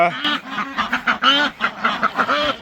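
Several ducks quacking loudly and close by in a rapid, repeated series of nasal calls, with no talking.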